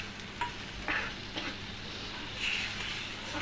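Spice paste for stuffed aubergine curry, fried with salt and turmeric until the oil separates, sizzles quietly in the pan as water goes in, with a steady low hiss and a few soft stirring clinks.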